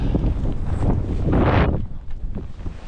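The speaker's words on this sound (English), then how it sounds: "It's quite windy up here." Strong mountain wind high on Yuzhu Peak buffeting the microphone in rough gusts, a roaring rush that swells and then drops off toward the end.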